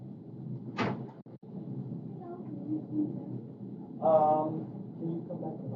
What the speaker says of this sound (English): I had a knock on the door